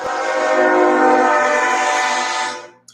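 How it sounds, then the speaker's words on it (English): A passing train sounds a long, loud, steady horn blast near a cruise ship home port. The horn holds for about two and a half seconds, then cuts off, followed by a brief faint clack. "We have a train coming, because why wouldn't we?"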